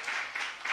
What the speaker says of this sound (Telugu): గట్టిగా చప్పట్లు కొడదాం దేవునికి